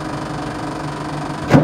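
A VW sand rail engine being cranked over with the key: a steady, even whirring drone runs throughout, then ends in a short, louder mechanical burst, heard up close with no talking.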